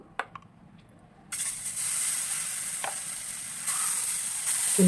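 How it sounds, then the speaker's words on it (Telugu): Dosa batter hits a hot oiled pan and bursts into a loud, steady sizzle after a few quiet clicks, the hiss holding and swelling slightly until the end, with no talking. "దోశ వేసుకుంటాం మనం ఇప్పుడు."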